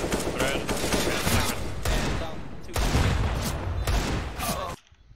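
Gunfire in a first-person shooter match, dense volleys of loud close shots and bursts nearly throughout, with sharp single cracks between, cutting off abruptly at the end.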